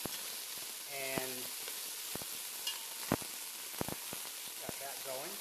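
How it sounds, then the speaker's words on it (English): Beef searing in a metal non-Teflon pan and being tossed with metal tongs: a constant bright hiss of frying with scattered sharp metallic clicks and scrapes, close up, with brief faint voice-like tones. "as it begins to sear, I'm just going to toss it to make sure that every side is getting done"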